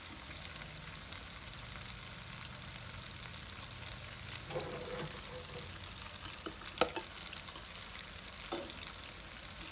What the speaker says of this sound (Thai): ก็ผัดให้ผักเข้ากับ ส่วนผสมอื่นนะฮะ